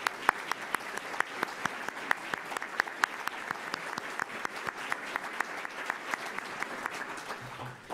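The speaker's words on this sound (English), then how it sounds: "Let's give them a round of applause." A modest audience at a transportation forum claps for the panel, a steady run of distinct hand claps at moderate volume that carries on for about eight seconds before tapering off.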